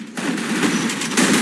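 Rapid automatic gunfire in a mobile battle-royale shooter game played on a Samsung S25 Ultra, a dense continuous burst of shots lasting over a second, loud and close with no talking.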